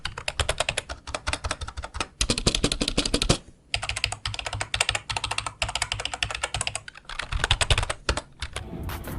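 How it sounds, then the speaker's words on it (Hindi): Fast, close typing on an Evofox membrane gaming keyboard, dense bursts of crisp key clicks with brief pauses between runs, heard alone without talk. "इसका जो साउंड है वो भी काफ़ी ज़्यादा कमाल का है। गाइस आप लोग यहाँ पर सुन लो एक बार।"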